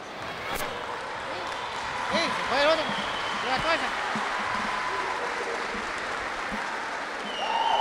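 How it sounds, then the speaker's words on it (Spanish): Applause from the crowd at a boxing event rises and holds at moderate volume, with thuds and an announcer's voice heard through it. "¡Fuerte ese aplauso!"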